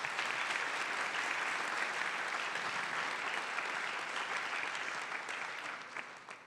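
A forum audience on social policy in Mexico City applauds in a dense, steady wash that thins out and fades toward the end.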